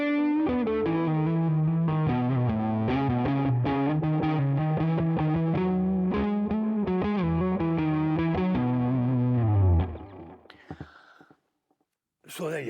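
An electric guitar through a Tone King MK2 amp with the drive fully clockwise plays heavily saturated, distorted chords and notes for about ten seconds, loud and sustained, fading out before a brief bit of talk.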